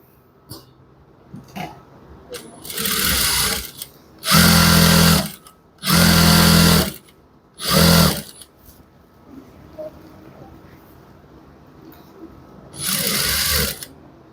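Sewing machine stitching a shirt, running in four separate loud bursts of steady motor whir separated by pauses with light handling noise, no talking.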